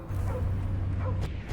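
A dog in the Guardians of the Galaxy video game gives two short, sharp barks or yips over a dense, low battle rumble.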